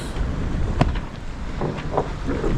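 Wind buffets the microphone aboard a Balance 526 sailing catamaran at sea off Cape Town, a steady rushing roar with a couple of brief knocks and creaks.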